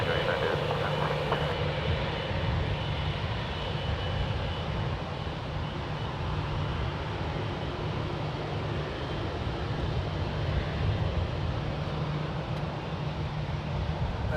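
A KLM airliner taking off from runway 1 right at San Francisco International Airport, a steady broad engine roar heard from a distance, constant and unbroken throughout.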